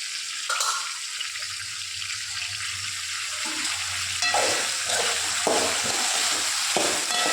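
Cumin, onion, chilli and tomato frying in a pan make a steady bright sizzle, broken by several soft scraping stirs and small clatters of a spoon, close and continuous with no talking.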